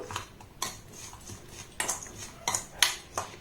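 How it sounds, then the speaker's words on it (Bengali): Dry ingredients being mixed in a bowl with onion, chili, salt and chaat masala, heard as a series of sharp utensil scrapes and clinks against the bowl at an irregular pace, close and fairly quiet, with no talking. "এবার সমস্ত শুকনো উপকরণ একটু নাড়াচাড়া করে আমি মিক্সড করে নেব"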